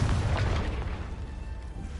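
A Confringo fire spell explodes in the video game Hogwarts Legacy, a loud booming blast that rumbles and fades over about two seconds.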